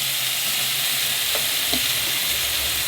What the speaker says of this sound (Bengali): আলু বরবটিটাকে দিয়ে খুব ভালো করে ভেজে নেব